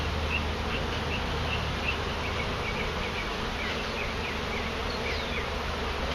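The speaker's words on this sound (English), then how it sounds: "gonna be some mad bees there." Agitated honey bees buzz in a dense, steady drone throughout a hive removal from a door, the swarm close and loud with no break.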